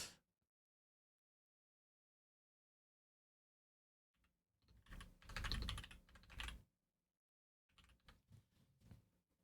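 Typing on a computer keyboard comes in two bursts of rapid, soft clacking keystrokes separated by silence, fairly faint and close.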